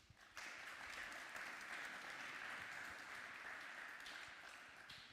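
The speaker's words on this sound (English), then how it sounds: "Please give a round of applause for our speakers" Applause from a conference audience after speakers are introduced, a steady wash of clapping held at even strength, fairly distant and diffuse, with no talk over it.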